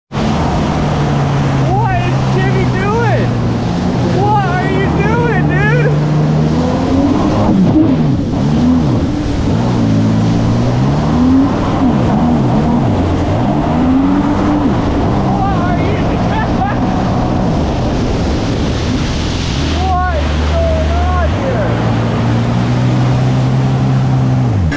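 A 440 jet ski engine drones loudly and steadily while riding on open water, with pitch swells and dips as the throttle varies, wind buffeting and water splash mixed in.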